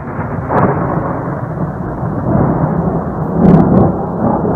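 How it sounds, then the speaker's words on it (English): Thunder rumbling during a winter snowstorm in Massachusetts and Connecticut, a loud, continuous low roll that swells near the end, with no speech over it. "Pretty unusual event when a winter snowfall brings the thunder"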